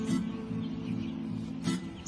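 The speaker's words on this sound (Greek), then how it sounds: "Τόσες φορές σου είπα, είναι ένα σπουργίτη." A sparrow chirps in short bursts over a low, constant background hum, the calls close and fairly faint, with a couple of sharper tweets standing out.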